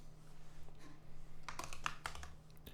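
Quiet typing on a computer keyboard, a short cluster of light key clicks over a low steady hum, close and faint.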